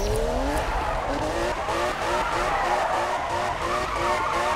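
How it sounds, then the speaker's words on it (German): A car spins a donut in the Need for Speed racing game, tires skidding and squealing continuously over a steady engine drone, loud and close throughout. "So, kann der Wagen jetzt auf der Stelle einen Donut ziehen?"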